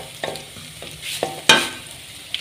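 Cumin, a cinnamon stick and curry leaves frying in hot oil, a soft steady sizzle broken by a few scraping stirs with a spoon, close and moderately quiet.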